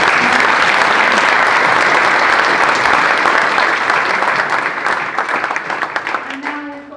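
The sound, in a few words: audience applause at security industry event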